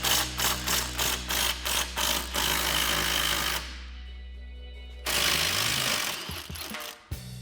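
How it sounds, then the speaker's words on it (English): An 18mm socket ratchet and 15mm wrench work the bottom shock bolt on a 2008-2023 Dodge Challenger, giving a run of quick close clicking ratchet strokes, a pause, then more mechanical turning noise. "grab an 18mm socket and 15mm wrench and pop off the bottom shock bolt holding it to the cradle"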